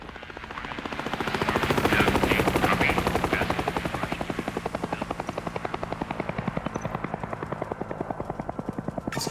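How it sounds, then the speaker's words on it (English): A helicopter passes in the video game Hell is Us, its rotor blades thumping in a fast, steady chop that swells louder then holds as it moves off. "just a random helicopter goes off into the"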